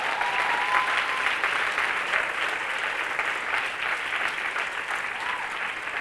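An audience at a spiritual discourse on the Atmasiddhi Shastra gives a sustained round of applause, dense and loud, holding steady for several seconds with no voices.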